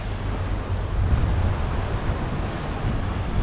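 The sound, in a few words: strong wind and high waves on the rocky coast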